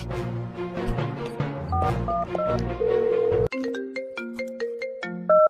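A melodic phone ringtone plays loudly and steadily, a repeating tune of bright electronic notes with no voices over it.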